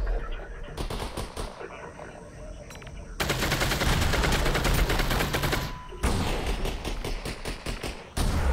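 Rapid automatic gunfire from the Half-Life: Alyx VR game, played in close, loud bursts, first in short sputtering volleys and then in a long sustained stream, with a brief pause before a final burst.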